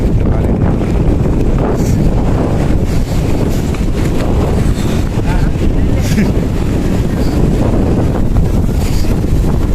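Wind buffets a sea pier in monsoon rain while waves roll and crash against it, a loud continuous roar with no pauses throughout.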